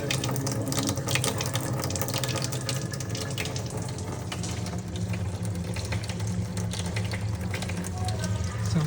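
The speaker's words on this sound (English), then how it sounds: "I want to run the water for a couple minutes." Water runs steadily through a water filter to flush it, a continuous close hiss and gurgle of flow with a low mechanical hum, unbroken for the whole stretch and with no talk.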